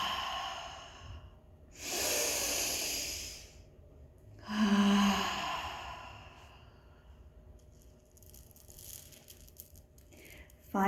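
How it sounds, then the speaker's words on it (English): Slow, deep yoga breaths: a long audible inhale and exhale repeated twice at close range, separated by quiet pauses, with a faint rustle near the end. "Let's take 3 deep breaths in, 3 breaths out."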